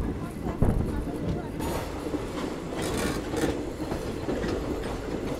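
Hussain Sagar Express sleeper-class coach pulling away, a continuous rolling rumble with soft clickety-clack of wheels over rail joints and faint squeals, heard from inside the carriage with talk in the background.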